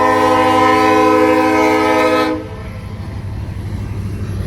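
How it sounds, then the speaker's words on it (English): A train horn blares loud and close for about two seconds, a steady rich chord, then cuts off, leaving the rumble and clatter of the passing train. "Horn sound!"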